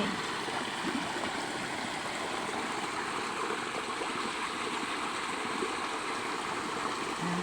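Small forest waterfall feeding a clear stream, a steady broadband rush of falling and flowing water, close and continuous with no voices.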